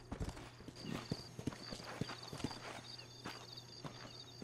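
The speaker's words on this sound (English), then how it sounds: "Vamos a llamar al caballo." A horse in the Red Dead Redemption video game clip-clops along in quick, uneven hoofbeats, quiet and fairly close, with a faint steady hum underneath.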